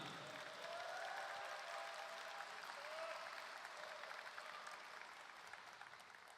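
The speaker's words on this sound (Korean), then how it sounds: "아낌없는 박수를 부탁드립니다" A crowd applauds at a Democratic Party nomination event for the Jeonnam, Gwangju and Jeonbuk region, heard as a faint, distant wash of clapping that holds steady and slowly thins, with a few thin whistle-like tones near the start.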